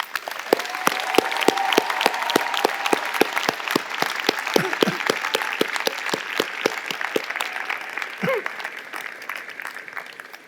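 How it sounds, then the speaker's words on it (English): A convocation audience applauds parents and friends, a dense wash of clapping with crisp individual claps standing out, steady and loud throughout, with a few brief whistles or cheers mixed in. "Let's give your parents and friends a huge round of applause."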